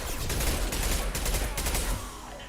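Rapid bursts of gunfire in a space video game, a loud, close fusillade of overlapping shots that rattles on for about two seconds before tapering off.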